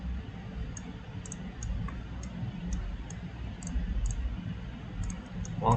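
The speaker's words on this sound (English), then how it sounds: "One click and another." Mouse button clicks while trimming scan data in 3D software, faint and sparse, about a dozen light ticks spread unevenly over a steady background hum.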